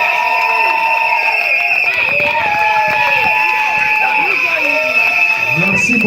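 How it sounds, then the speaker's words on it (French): Guests at a civil wedding ceremony cheer and applaud in a loud, continuous crowd roar with shrill whistles and voices mixed in throughout. "vous les acclamez, vous les applaudissez"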